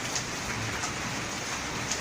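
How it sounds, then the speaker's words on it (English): Steady, dense rain pours down outside an apartment in Cambodia, a continuous close hiss of drops striking surfaces with no pauses and no talking. "Raining."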